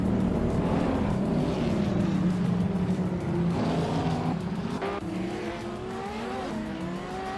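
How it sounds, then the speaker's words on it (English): Supercars from 2010 onward roar off the start of a video game race at the Ailes track, several engines droning and shifting pitch together with tire squeals, loud and continuous, without voices. "The race is kicking off at the Ailes track with the 2010 and up supercars."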